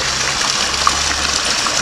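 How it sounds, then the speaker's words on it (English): Water fountain in a park splashing steadily, a continuous broadband wash of falling water with no breaks, fairly close and even in level. "there's a fountain."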